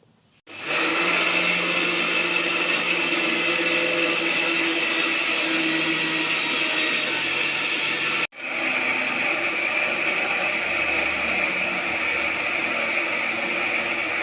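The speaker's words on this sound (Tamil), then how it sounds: "இப்போ இந்த எள்ளையும் நாட்டு சர்க்கரையும் மிக்சியில் போட்டு பொடிக்க போகிறோம்" A kitchen mixer grinder powdering sesame seeds with country sugar, a loud steady whirring roar that runs continuously, cuts off briefly partway through, then resumes just as strong.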